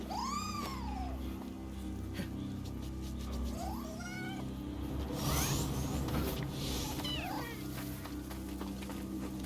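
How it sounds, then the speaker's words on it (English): Cat in Nioh 2, several drawn-out meows and yowls repeated over a steady low hum, with muffled voices in the background. "Cat."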